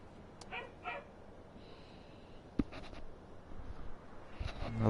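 A dog playing with a young boy indoors gives a few faint, brief yips and barks, spaced apart over a quiet room background.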